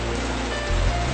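Steady rain pours down during a storm outside a neighbor's house, a dense, even hiss of drops with a low rumble swelling near the end.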